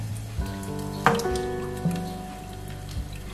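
Beef simmers in water in a pot, a soft, crackling bubble with a few sharper clinks and taps near the start and middle.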